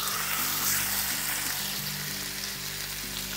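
Chicken sizzles and fries steadily in a pan on the stove, a continuous close, moderately loud crackle alongside a low hum of other kitchen sounds, with nobody speaking.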